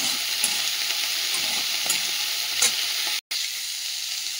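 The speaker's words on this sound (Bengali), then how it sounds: "আর এদিকে যে ফুলকপিটা ভাজা হচ্ছে" Cauliflower frying in oil with salt and turmeric in a wok, a close, continuous hissing sizzle with light stirring clicks, interrupted once by a brief silent gap.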